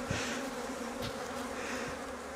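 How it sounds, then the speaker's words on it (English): Honey bees swarm around an agitated hive during a vertical Flow Hive split, producing a dense, continuous close buzz with a few louder passes of individual bees near the microphone. "this hive is being very feisty and stung me in the face."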